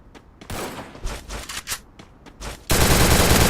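Video game gunfire including shotgun blasts: loud, close, irregular shots and short bursts, then a dense, continuous roar of fire that fills the final second.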